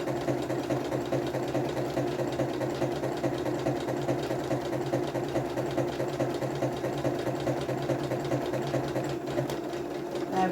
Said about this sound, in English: just slowly I'm going to start sewing, and hopefully we get ourselves a nice buttonhole